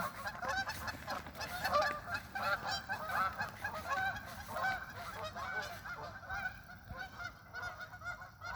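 A flock of geese honking continuously, many overlapping calls at close range, busy and loud throughout with no pauses.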